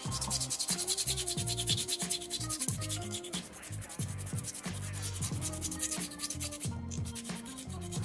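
Sandpaper folded into a small rectangle rubs over a soapstone cat carving in quick, steady back-and-forth strokes, close and continuous for the whole stretch with no talk.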